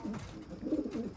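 Racing pigeons coo softly and continuously close by, low rolling murmurs overlapping in a loft.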